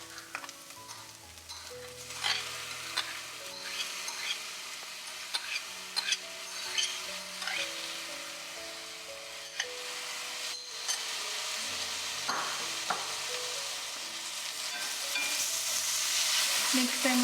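Spinach is stirred with onion, ginger and garlic in a hot pan, giving repeated scraping strokes over a steady sizzle that grows louder toward the end, with no talking.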